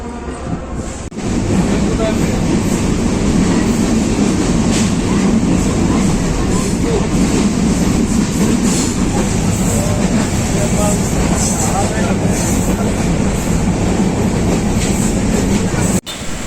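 The Benapole to Dhaka passenger train running: a loud, continuous rumble and rattle of wheels on track, steady throughout and heard up close, with a brief dropout near the end.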